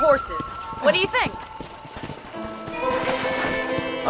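Horses in a ranch corral in the video game Red Dead Redemption, with close hoof clip-clops and a couple of whinnies, under a voice and faint background music.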